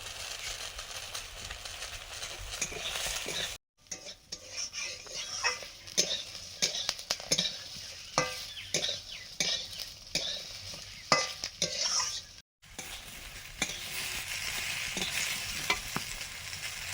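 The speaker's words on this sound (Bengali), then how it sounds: "এবারে পরিমাণ মতো ডাল দিয়ে দিচ্ছি।" Dal lentils tipped into a hot pan and stirred, a soft sizzle under repeated clinking scrapes of a spoon against the pan, with two brief dropouts to silence.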